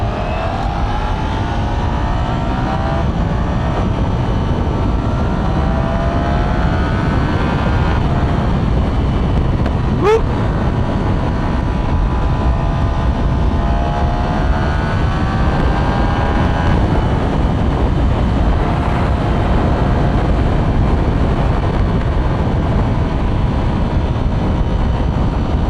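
Wind roars steadily past a rider on a Ducati Panigale V4 motorcycle on the interstate, a loud continuous rush over the engine drone with no break.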